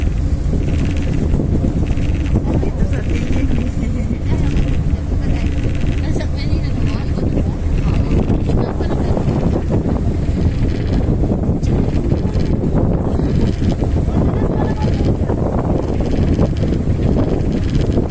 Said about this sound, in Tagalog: dito ang hangin.